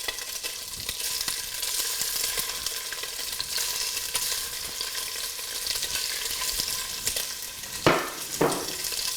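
Rockfish frying in a pan over high heat, a dense continuous sizzle, loud and close, with a couple of brief clatters near the end and no talking.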